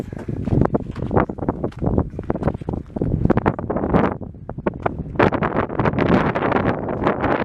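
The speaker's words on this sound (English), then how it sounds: "The wind is picking up." Gusty desert wind in Joshua Tree National Park buffets the microphone in loud, irregular rumbling bursts that rise and fall continuously, with no speech.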